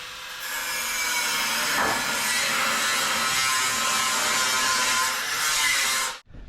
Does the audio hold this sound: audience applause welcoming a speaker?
no